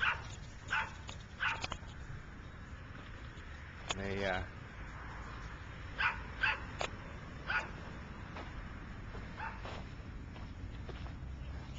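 Dogs at a dog park let out scattered barks and yips, with a short whimpering cry in the middle, while a person talks nearby.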